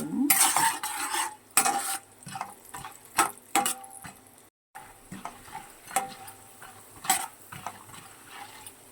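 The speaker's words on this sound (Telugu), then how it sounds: "కొంచెం పచ్చిశనగపప్పు కొంచెం మినపప్పు అండి వేసుకొని దూరగా ఫ్రై చేసుకోవాలండి" Chana dal and urad dal fry in a pan with oil, a close sizzle broken by repeated loud stirring clinks and scrapes of a spoon against metal, one brief gap of silence midway.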